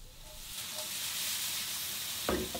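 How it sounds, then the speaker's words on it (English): Pancetta and garlic sizzling in a pan, a continuous bright hiss and crackle, close and steady, with a brief stir or scrape near the end. "my pancetta and garlic are cooking in the pan"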